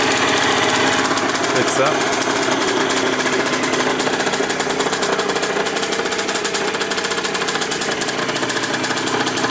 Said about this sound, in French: Ça démarre facilement maintenant. Le ralenti il est un peu haut.